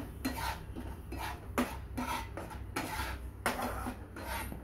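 Spices are stirred in a pan with a utensil, in repeated scraping and clinking strokes about every second, close and fairly loud over a low background hum.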